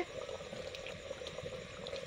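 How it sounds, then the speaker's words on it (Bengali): Mutton curry bubbles steadily in a clay pot, a soft, continuous simmer with small pops and gurgles throughout, fairly quiet and close. "টকবক করে ফুটছে।"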